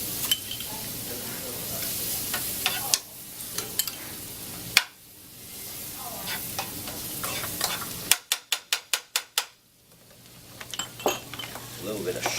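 Garlic sautéing in butter in a pan as part of lobster américaine prep, a soft sizzle under intermittent stirring scrapes, then a quick run of sharp clinks of a utensil tapping the pan.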